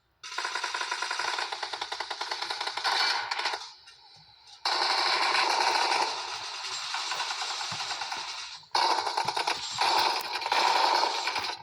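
Rapid automatic gunfire in PUBG Mobile, long loud bursts of repeated shots broken by brief pauses, with a faint engine-like rumble between volleys.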